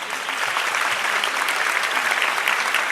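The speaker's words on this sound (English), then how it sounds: "another big round of applause for Dr. Joe Chang" An audience in Singapore gives Dr. Joe Chang a big round of applause, dense, even clapping that stays loud and steady throughout without a break.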